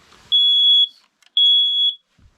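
A carbon monoxide alarm in a lodge sounds two long, loud, high-pitched beeps, each about half a second, separated by a short gap.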